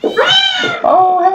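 A cat meows in a video game: a couple of clear, close tonal meows, loud and alone, one short then a longer drawn-out cry.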